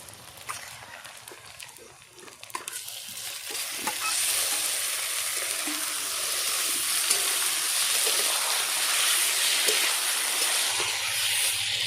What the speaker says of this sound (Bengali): এবার দিয়ে দিব ম্যারিনেশন করে রাখা চিকেনের মাংস।